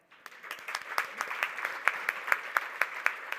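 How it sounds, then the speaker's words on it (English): Applause from an awards breakfast audience: steady, dense clapping from a roomful of people with sharper individual claps popping out, holding at an even moderate level throughout. "as you already have applauded"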